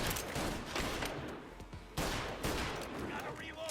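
Gunfire in Mafia: Definitive Edition, a rapid fusillade of sharp, loud shots in bursts, with a heavier blast around the midpoint and a voice shouting between volleys.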